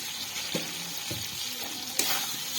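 Spice masala fries with water and sugar in a pan, a soft steady sizzle with a few spatula scrapes and one sharper knock, heard close with no voices.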